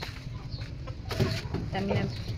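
Chickens and chicks on a small farm cluck in short, close bursts, a few sharp calls rising over a low background while a person talks nearby.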